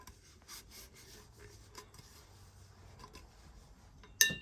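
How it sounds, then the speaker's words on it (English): A towel rubs across a sublimation print in soft, faint scrubbing strokes, a quiet rasping texture repeated in short bursts, ending with a sharper brief scuff. "let me just use this towel to rub it off a little bit"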